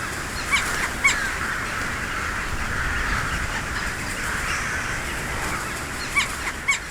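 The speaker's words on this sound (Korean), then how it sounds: "갈까마귀는 자리 다툼에서 늘 덩치 큰 띠까마귀에 밀린다." Caws and scattered calls from jackdaws and carrion crows competing for roosts atop bamboo stems ring out over a steady rustling wash, with a few sharper calls standing out near the start and the end.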